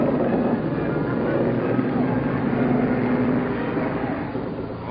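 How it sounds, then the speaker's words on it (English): A propeller airplane passes overhead in a 1944 wartime recording at night, a steady, broad droning roar that holds loud and even through the whole stretch, with no voices. "There we go again, another plane come over."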